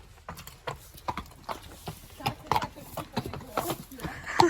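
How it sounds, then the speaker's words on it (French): Hooves of several horses clip-clopping as they are moved together on a trip, an uneven run of hollow knocks at walking pace, close by, with people's voices mixed in. "On va pouvoir déplacer les chevaux en même temps."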